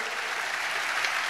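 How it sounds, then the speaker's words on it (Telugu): A congregation at an Emmanuel Ministries church service in Hyderabad claps together in praise, a short, dense and even wash of applause at moderate volume. "చప్పట్లు కొడుతూ స్తోత్రాలు చెప్దాం."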